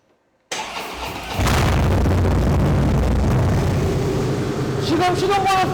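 After a moment of silence, a 2017 Harley-Davidson Breakout CVO with a variable muffler fires up and roars into a loud, rumbling exhaust idle, with a voice briefly speaking near the end.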